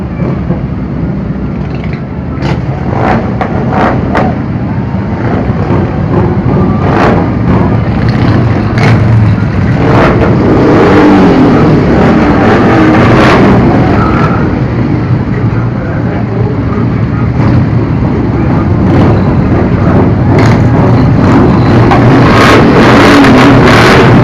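Motorcycles of the Mestizos Motorcycle Club rumble past in a July 4 parade, loud, continuous engine roar with repeated revving bursts, close by and dominating the street noise.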